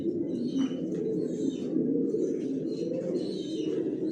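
Pigeons in a racer loft coo continuously in a low, throaty murmur, several birds overlapping close by, with a few faint higher chirps above the steady warbling.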